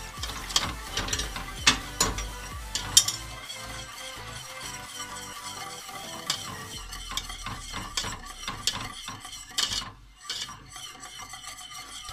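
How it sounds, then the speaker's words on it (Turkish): Hand whisk beating a kelle paça soup mixture in a pot, steady scraping and rattling strokes close up, continuous with slight pauses and no voice. "Çırpıcımla çırpıyorum."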